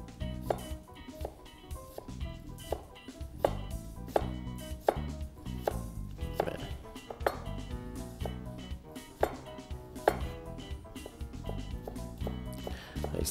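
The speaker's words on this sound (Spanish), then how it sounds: "Vamos a hacer tiritas o juliana de esta cebolla" A knife chops an onion into julienne strips on a board, brisk regular knocks in a steady rhythm with faint clinks, close and fairly quiet, with no one talking.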